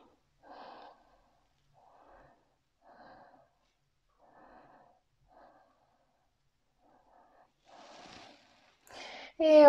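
Soft nasal breaths during a yoga back stretch, a series of short quiet inhales and exhales spaced about a second apart, close and faint, ending in a louder breathy burst.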